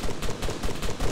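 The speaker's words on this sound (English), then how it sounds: "Hearing fire coming up from the west." Game gunfire echoes in a dense, continuous spread of shots, distant fire coming from the west during a building-clearing mission, with no voices over it.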